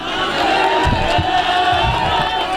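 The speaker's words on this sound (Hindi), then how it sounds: "आप लोग भी ताली वाली बजा सकते हैं।" Audience at a mushaira poetry gathering in Jani Kala, Meerut, making a dense, steady wash of crowd noise that resembles sustained clapping and cheering, with a few low thumps scattered through it.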